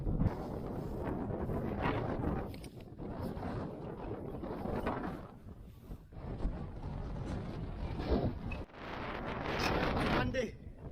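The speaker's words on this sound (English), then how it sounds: "Windy. Far too windy, man." Strong gusts of wind buffet a wild campsite in high winds, loud roaring blasts that surge and ease in repeated waves, battering the microphone, with no talk.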